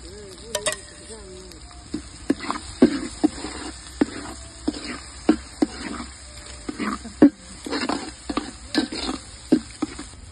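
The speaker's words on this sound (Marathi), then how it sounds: "आता कांद्याची ग्रेव्ही पण आपण चांगली तेल सुटेपर्यंत परतून घ्यायचे" Onion gravy fries and sizzles in oil over a wood-fired stove at an outdoor farm cooking session for chicken, with repeated near scraping and stirring taps of a spatula in a steady irregular rhythm over a soft frying hiss.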